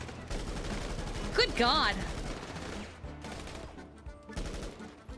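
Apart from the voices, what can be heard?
gunshots at a shooting range in video game GTA NoPixel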